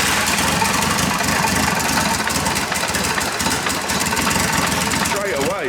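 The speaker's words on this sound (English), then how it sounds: "I think we're gonna go for a first start and see if it starts on the injectors and everything." An Audi S3 2.0 TFSI engine running on its first start with no downpipe connected, a loud, steady, rough mechanical roar close up that continues throughout.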